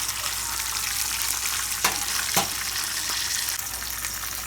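Breaded chicken pieces fry in a pan of oil, a dense close-up sizzle running continuously, broken by a couple of sharp scrapes or taps from a utensil.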